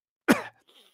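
A single short, close cough bursts out and fades quickly, followed by a faint breathy rasp, with no speech around it.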